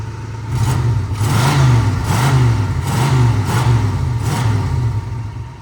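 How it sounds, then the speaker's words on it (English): A 1991 Jeep Grand Wagoneer engine revs up and down several times, a deep throaty rise and fall, close by with no voices. "Give it a rev, just so you can hear the note."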